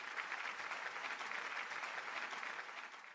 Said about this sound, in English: I want to give a moment to give all armies a round of applause.